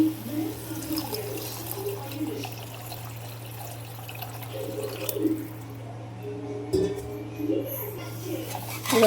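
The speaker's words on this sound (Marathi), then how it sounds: "आता आपल्याला जेवढी ग्रेव्ही लागेल तेवढं आपल्याला याच्यामध्ये बघा पाणी ओतून घ्यायचं आहे।" Water splashes and trickles into a cooking pot of gatte ki sabzi gravy, with a steady low hum underneath and occasional faint voices in the background.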